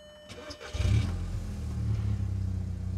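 A BMW car engine cranks briefly, then catches and settles into a steady, loud idle rumble close by.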